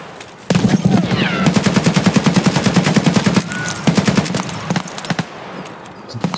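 Sustained automatic gunfire from the video game Escape from Tarkov, a rapid string of loud, close bursts running for several seconds with brief pauses between volleys.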